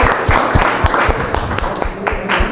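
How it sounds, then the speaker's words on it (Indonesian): An audience at a high school student council debate claps and applauds, dense, loud clapping running steadily throughout with voices mixed in. "Beri tepuk tangan dulu untuk menyemangatinya lagi."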